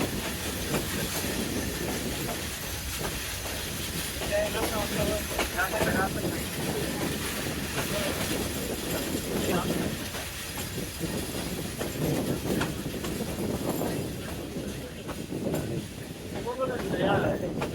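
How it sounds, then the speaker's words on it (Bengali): The Upaban Express, an intercity passenger train, rolls into Sreemangal railway station with steady clickety-clack of wheels, rumble and a faint hiss, continuous and fairly close for the whole stretch, with people talking in the background. "আন্তনগর উপবন এক্সপ্রেস প্রবেশ করছে শ্রীমঙ্গল রেলওয়ে স্টেশনে"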